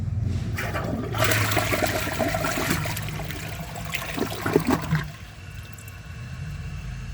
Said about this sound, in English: So I'm going to give that another flush and see if it can take out the rest of the dirt.